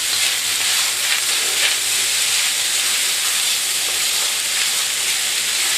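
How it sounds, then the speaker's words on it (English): Special fried rice sizzles in a hot pot, a loud, continuous hiss with crackling texture holding steady throughout without any voices. "You can hear that sizzling"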